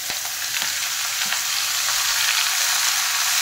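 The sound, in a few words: chopped bottle gourd frying in tempered oil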